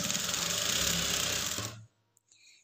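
A sewing machine runs at a steady, fast whir while stitching a lined blouse, then stops abruptly partway through, leaving a brief click and near silence.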